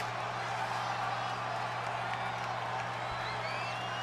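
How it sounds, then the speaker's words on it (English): Arena crowd noise from the WWE 2K20 wrestling video game, a steady dense roar of fans chanting and cheering that stays continuous and fairly full throughout, with faint applause mixed in. "As the Finn chants enter the arena, I did not hear that coming"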